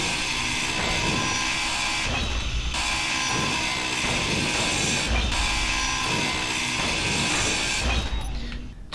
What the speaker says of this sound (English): So, grind down all this down here.